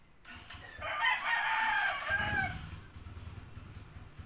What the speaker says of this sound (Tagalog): naririnig nyo na yung mga tilatilaok ng manok.